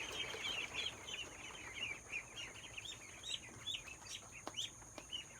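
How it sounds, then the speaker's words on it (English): Many baby ducks, about 2.5 weeks old, peep continuously in a high, busy chorus inside a hoop house, overlapping chirps close by with a faint background hum and no talking. "we have our little baby ducks"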